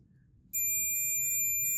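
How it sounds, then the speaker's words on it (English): After a brief quiet moment, a multimeter's continuity tester sounds a steady high-pitched electronic beep that holds without a break. "As you can see, the beep sound again came."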